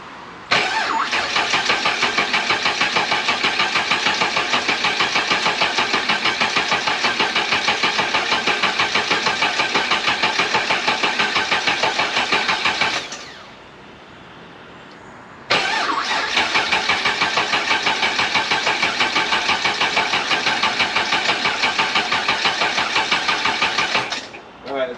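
Boosted LSx V8 in a Pontiac GTO with a DIY 3-inch exhaust, cranking in long, loud, rhythmic starter pulses that pause briefly, then resume close up without the engine firing.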